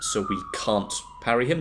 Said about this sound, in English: Apologies for the sirens if you can hear them